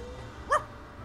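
A short, bright yelp-bark from Milou the dog in a Tintin Reporter video game, a single clear bark standing out over a low, steady game ambience.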